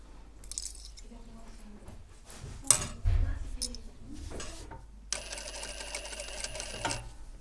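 A sewing machine stitching a hoodie seam, its steady mechanical whir running alone for the last couple of seconds, preceded by soft handling clicks and rustles of fabric and tools.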